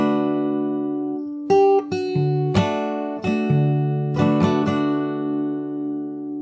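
Close acoustic guitar in fingerstyle, from a song, with sustained notes broken by quick up, down, up strums in an uneven rhythm, ringing clearly with no voice.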